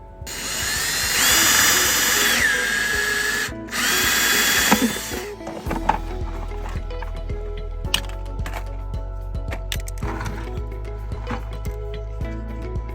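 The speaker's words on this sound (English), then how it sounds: "I like using this type of drill over the spade bit because it just makes a cleaner hole." A power drill whines in two loud bursts, revving up and boring a hole through a bucket, then low motor rumble with scattered cracking and clattering follows.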